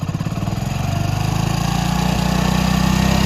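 A small motorcycle engine revving steadily after its carburetor RPM screw is set to roughly 3000–3500 RPM, a loud, even, buzzing drone close to the microphone throughout.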